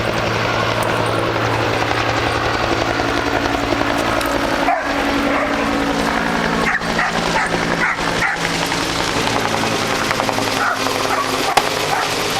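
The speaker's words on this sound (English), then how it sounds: "another shot of a helicopter going over here" A helicopter flies overhead near a forest fire between Rainier and Clear Lake, Washington, its rotor drone steady and loud throughout, with occasional dog barks and yips breaking through.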